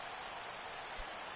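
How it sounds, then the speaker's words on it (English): Steady light rain falls on an open-roof baseball stadium in a video game, a dense even hiss with no voices or other sounds. "It's raining, but yet the roof is open."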